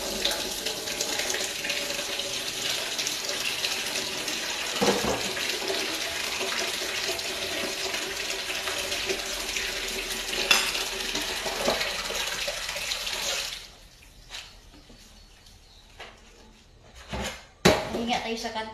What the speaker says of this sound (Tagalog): Maghugas muna ako pinggan.